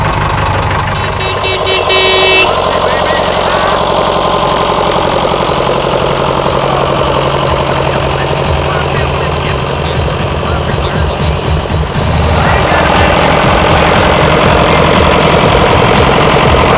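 A 1974 Leyland 255 classic farm tractor's diesel engine pulls away in gear, a steady loud knocking drone with a rise in revs near the end, heard from the driver's seat with some talk over it.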